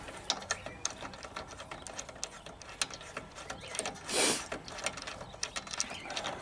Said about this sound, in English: Take your wrench, loosen up your spark plug, go ahead and unscrew that.